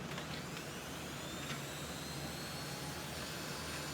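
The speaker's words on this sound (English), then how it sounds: "Okay, Dremel tool in action." A Dremel rotary tool sands the edge of a stack of business cards, giving a steady, close high-pitched whine with a faint grinding hiss and no voices.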